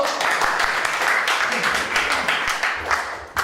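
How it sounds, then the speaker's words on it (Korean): An audience at a lecture applauds to welcome a participant, giving a dense, steady burst of many hands clapping at close range that tapers slightly toward the end. "박수로 모시겠습니다"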